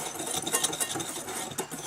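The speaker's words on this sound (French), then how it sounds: "Mélangez toutes ces poudres." Powdered sugar, hazelnut powder and cinnamon are stirred together in a bowl with a utensil, a soft scraping and light clinking at a steady pace, close and alone without talk.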